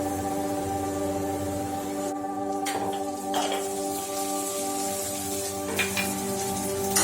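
Ginger garlic paste fries in a pan for a mushroom and vegetable kadai gravy, giving a continuous sizzle with a few light stirring scrapes and clinks over a faint steady hum.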